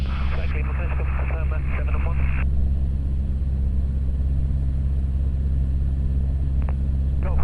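Light training airplane in flight during a flying lesson out of Redhill Aviation: a steady, droning engine rumble fills the whole stretch, with an instructor's voice over it at first.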